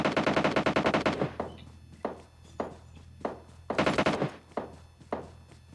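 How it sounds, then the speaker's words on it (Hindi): Gunfire in a battle royale video game: a rapid automatic burst opens loud, followed by scattered single shots and short volleys with gaps between them, no talk over it. "मुझे पता लग जाता है इधर से ही गोली चली है"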